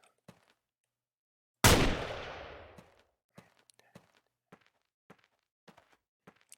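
A single heavy gunshot booms in the DeathMatch video game and trails off in a decaying echo over about a second, framed by faint scattered footsteps and small clicks.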